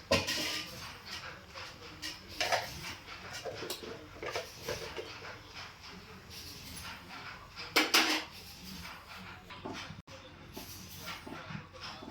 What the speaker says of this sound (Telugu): బెల్లం తురుము వేసిన తరువాత ఒక ఐదు నిమిషాల వరకు ఇలా కదుపుకుంటూ మనం కుక్ చేస్తే